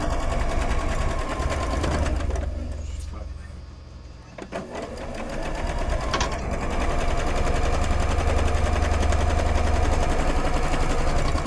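A sewing machine runs in rapid, even stitching bursts, briefly slowing and pausing before resuming steadily, with a voice talking over it.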